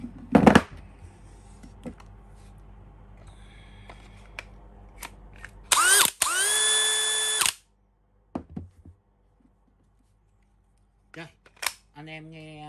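A Dewalt DCD999 cordless drill, US-made version, whirs up in one brief loud burst of about two seconds amid quiet handling clicks and a few short taps.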